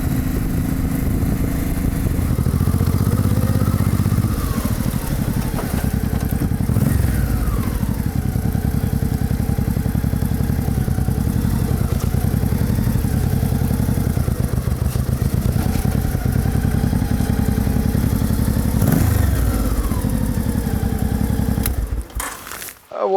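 A Honda motorcycle rides through city streets, its engine droning steadily and loudly throughout with small rises and dips in pitch as the rider works the throttle at low speed, cutting off abruptly at the end.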